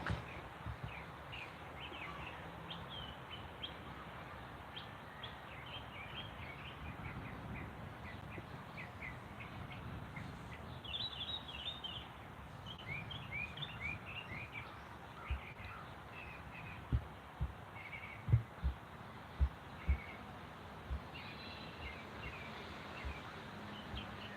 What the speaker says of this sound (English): Sounds serene out there with those birds chirp.